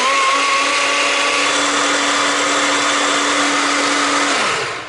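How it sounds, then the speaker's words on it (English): A blender runs continuously at high speed, whirring loudly as it blends an oat smoothie, with a steady motor whine that holds throughout before the pitch drops as it spins down at the end. "Man, just listen to that blender."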